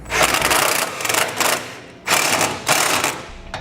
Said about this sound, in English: we're going to come back with an 18mm socket, and we're just going to snug this up